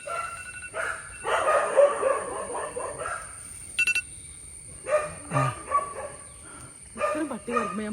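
A dog barks in short bursts at a family home in Kochi, with people talking over and between the barks.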